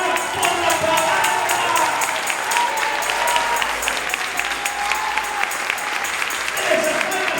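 A church congregation at a Spanish-language evangelical service claps hands in a steady rhythm, dense and continuous throughout, with voices and music mixed beneath the clapping.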